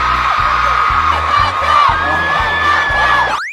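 A dense crowd of girls at a concert screams and cheers loudly and continuously, with high shrieks rising over the din and steady pounding music underneath.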